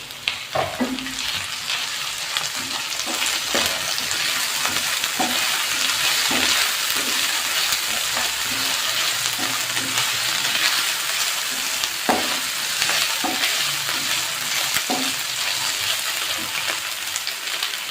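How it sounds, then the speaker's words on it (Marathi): Chillies and onion pieces sizzle steadily in hot oil for chicken chilli, a continuous loud frying hiss with occasional stirring clicks and scrapes, no talking. "मिरची टाकून घेऊ आपण सगळं आणि हे कांद्याचे आपण तुकडे केलेले आहेत ते टाकायचे"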